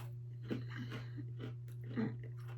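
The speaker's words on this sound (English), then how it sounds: "The crunch is good." Crunchy orange-flavored Thai snack chewed close to the mic, a few irregular crisp crunches over a steady low electrical hum, with no talking.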